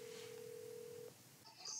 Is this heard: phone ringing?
yes